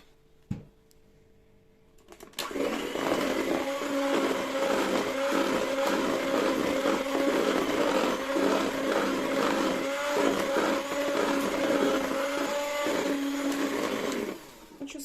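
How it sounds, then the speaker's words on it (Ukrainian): An electric mixer whirs steadily and loudly as it beats cake batter made with sourdough starter leftovers, sour cream and flour. It starts after about two seconds of near quiet and runs without a break until it stops just before the end. "І поступово додаємо борошно та починаємо збивати."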